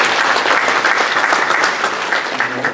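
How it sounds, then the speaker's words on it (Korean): A church congregation claps to welcome newcomers to a Korean worship service, a warm burst of many hands applauding together, close and steady for a few seconds before easing slightly. "박수로 환영합니다."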